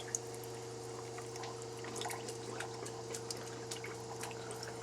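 A weak Surflo 2088 water pump in a camper hums steadily while water trickles thinly from the tap, with small soft splashes over the constant low drone.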